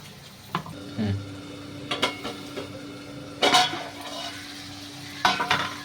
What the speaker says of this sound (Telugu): ఇలా కట్ చేసుకున్న ఉల్లిపాయ ముక్కలు, అలాగే టమాటా ముక్కలు, ఇలా ఒక క్యాప్సికమ్ ముక్కలు వేసుకొని వేయించుకుందామండి